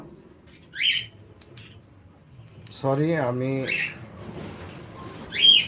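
Caged birds on a bird farm squawk in a few sharp, close calls, with someone speaking briefly in between and a soft hum underneath.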